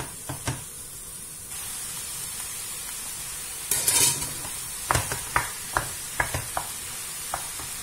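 Red cabbage with tomato paste is stirred in a hot pan, a steady sizzle running underneath a series of sharp utensil scrapes and clicks against the pan, close up and without talk.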